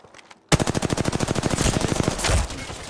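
Rapid automatic gunfire in Apex Legends, a fast steady burst of evenly spaced shots starting abruptly after a brief quiet moment, loud and close, with a heavier blast and ringing tail near the end.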